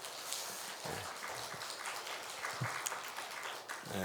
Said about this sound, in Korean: 우리 자녀들을 격려해 박수를 같이 좀 하도록 하겠습니다